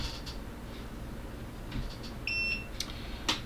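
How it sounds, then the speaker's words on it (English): A soldering iron's ready signal: two short electronic beeps after the tip heats up, over a quiet room hum, followed by a few faint clicks. "Just changing tip on my soldering iron, waiting for the beep, so it's hot."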